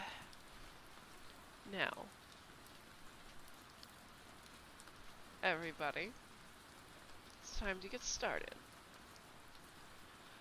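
Steady rain falls on a surface as a soft continuous hiss under the whole stretch, with a voice speaking in three short bursts over it.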